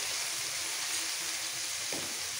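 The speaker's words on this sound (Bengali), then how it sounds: "মূলো, শিম আর বেগুনটাকে একটু ভেজে দেবো" Radish, flat beans and eggplant fry in a pan with a steady, close sizzling hiss throughout, broken by a brief scrape of stirring near the end.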